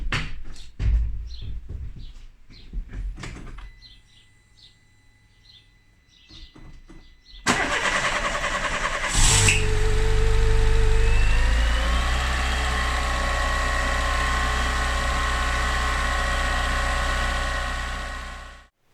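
A Peugeot 207 car with no coolant in it gives some quiet clicks and ticks before its engine suddenly fires up, then runs loud and close at a steady idle for about ten seconds before cutting off.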